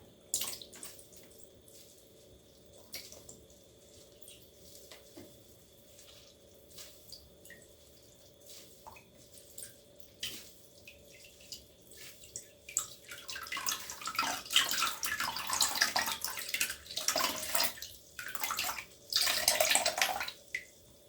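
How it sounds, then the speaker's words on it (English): Water drips and streams as wet knitted fabric is squeezed out after soaking for wet blocking, building from soft scattered drips into louder splashing bursts, close and alone with no talking. "I'm just gonna squeeze it, and I'll be quiet so you get that water ASMR."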